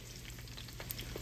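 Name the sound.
flounder fish frying in pan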